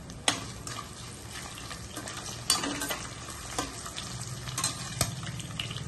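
Whole spices such as cumin, cinnamon, cloves, star anise, mace, cardamom, pepper and bay leaf fry in hot oil with a continuous sizzling crackle, broken by a few sharp clatters of a stirring spoon, close and steady, no voices.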